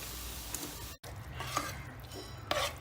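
Masala roasting in a pan is stirred, with a soft low sizzle and a few scraping spoon strokes against the metal, quiet and close, briefly cut off near the start, with no voices.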